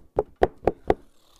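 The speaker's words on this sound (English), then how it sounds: "He out his window and saw the tiger knocking on the door" Four evenly spaced knocks on a door, close and fairly loud, with a short silence after them and no voices.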